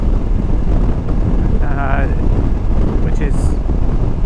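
Heavy wind rush while riding a CFMOTO 800MT Touring motorcycle, a loud constant roar of buffeting air with a voice faintly talking beneath it.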